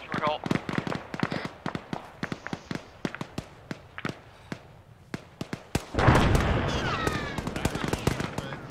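A grenade explodes during Arma 3 infantry combat: rapid cracks of gunfire and footsteps, then a loud, sustained blast that rumbles and fades, with voices talking in the background.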